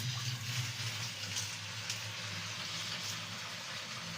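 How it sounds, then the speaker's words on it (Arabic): Water streams steadily into a pot for boiling cabbage, a constant soft gushing hiss that holds for a few seconds at low level, with no talking. "نعمل لها ميه كده"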